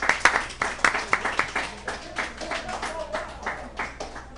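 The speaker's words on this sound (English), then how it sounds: "Give a hand clap for Angel Schifino" An audience at a sports talk event gives a hand clap, with scattered, uneven claps and light applause running steadily throughout at moderate volume, mixed with faint background noise.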